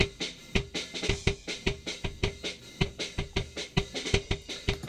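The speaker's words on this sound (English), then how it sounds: "Their kick sounds like this." A punchy kick drum sample repeats in a steady rhythm within a music mix, with dense, close thumps about twice per second and other percussive hits between them.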